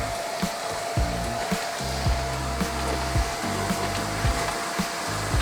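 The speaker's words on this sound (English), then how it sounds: "We take a shop vacuum and thoroughly vacuum the floor of the motorhome." Shop vacuum running on the floor of an old van being converted into a camper, a loud steady roaring whoosh with the nozzle knocking and scraping against the floor at irregular moments.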